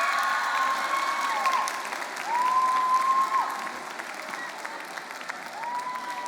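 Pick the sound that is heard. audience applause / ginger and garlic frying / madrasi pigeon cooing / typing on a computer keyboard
audience applause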